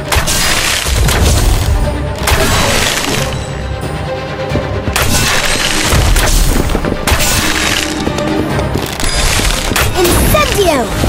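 Incendio fire spell effects in the Harry Potter: Magic Awaken video game erupt as dense, continuous booming and crashing blasts with whooshing bursts, loud and sustained throughout.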